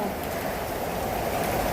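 Heavy rain falling on a Hyderabad road, with water running along it, makes a dense, steady hiss and wash that stays constant, close and loud, with no break.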